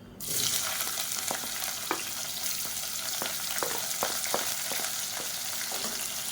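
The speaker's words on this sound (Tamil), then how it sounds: "இது நல்லா பொரியட்டும். இப்போ பாருங்கள், நல்லா பொரிய ஆரம்பிச்சிருச்சு." Whole spices and long-sliced onion fry in hot oil for a Tamil-style biryani, giving a steady, loud, close sizzle with scattered sharp pops and occasional stirring clicks throughout.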